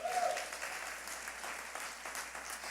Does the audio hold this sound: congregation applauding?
yes